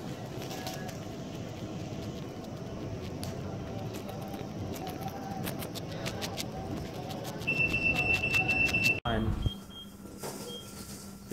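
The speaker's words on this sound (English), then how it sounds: "Stop pressing it, it's beeping." Steady hum fills an elevator while people talk; near the end the elevator alarm button gives a high electronic beep, followed by an abrupt cut to quieter tone.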